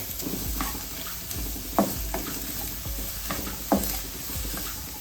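Finely chopped vegetables are stirred in a hot pan while they wilt, steady sizzling broken by a few sharp scraping strokes of the spoon at irregular intervals, close and fairly loud.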